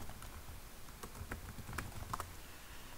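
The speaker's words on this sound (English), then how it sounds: "I'm just going to type white background" Soft, rapid keystrokes on a computer keyboard, a quiet irregular patter of clicks heard alone at close range.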